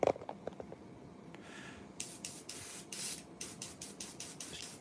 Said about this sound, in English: we've been spraying the thinners out of it